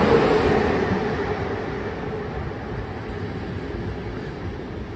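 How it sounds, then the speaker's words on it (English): Romanian train at a station, a steady low rumbling drone that fades slightly over several seconds, heard alone without voices. "that's a Romanian train at the train station"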